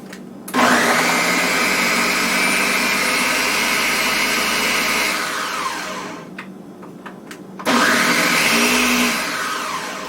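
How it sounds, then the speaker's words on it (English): A blender whirs loudly and steadily through frozen blueberries and water, running for several seconds, dropping briefly, then roaring back up for a second burst. "Just do whatever you have to do so your blender will work to blend it all up."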